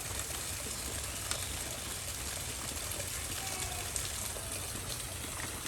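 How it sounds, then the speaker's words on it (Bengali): Heavy rain pours down outdoors near a pond, a steady dense hiss with scattered drop taps and no break. "বৃষ্টি থামার কোনো নামই নাই"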